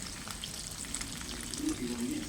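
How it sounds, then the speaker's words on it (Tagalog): Hot cooking oil spits and sizzles in a pan during frying at home, a soft continuous crackle with faint kitchen noise beneath. "Tumansik ang mantika."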